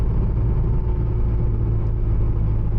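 Porsche Cayman 987 Turbo making 700 hp, its engine pulling in sixth gear at about 2000 rpm under light throttle, a deep steady drone heard from inside the cabin, even and unbroken.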